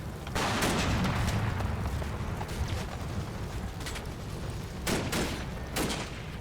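Mortar blasts and gunfire in a combat video game land in heavy, booming bursts over a constant rumbling background, with sharp reports clustering near the end.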